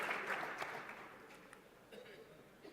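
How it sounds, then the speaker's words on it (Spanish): An auditorium audience at an annual economics conference gives a short, moderate round of applause that fades over a few seconds, with faint murmuring underneath. "Aplaudo. Nos autoaplaudimos."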